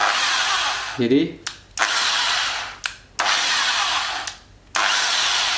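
An electric hand drill with a reversible direction switch runs in three separate bursts of high whirring, each stopping abruptly before the next starts, with a short spoken word near the beginning.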